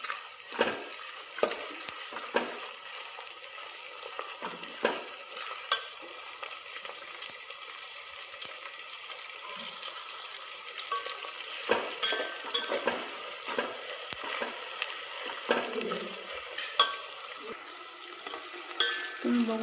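Vegetables for veg dum biryani are fried and stirred in a pan, a soft continuous sizzle broken by repeated scraping and clinking of the spoon against the pan, close and fairly quiet, with a voice talking at times.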